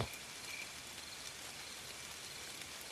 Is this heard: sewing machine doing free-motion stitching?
no